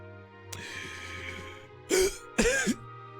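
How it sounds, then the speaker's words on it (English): Two short, harsh coughing bursts close to the mic, with a steady low hum and faint background sound before them. "now I am actually coughing"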